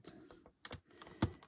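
Irregular clicks of keys being pressed on an external computer keyboard connected to a reMarkable tablet, a handful of quiet taps with one louder strike, nearby and without voices.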